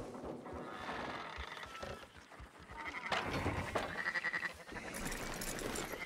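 Several sheep bleat in overlapping, wavering calls against a cluttered background in the video game Red Dead Redemption 2, the cries rising and falling over a few seconds.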